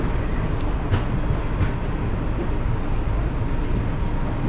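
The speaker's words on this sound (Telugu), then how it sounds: "ఎగ్జాక్ట్ టైంకి అయితే ట్రైన్ అయితే బయలుదేరిపోయింది" The Sainagar Shirdi Express pulls out of a station with a steady low rumble and faint wheel clatter, heard from nearby without talk.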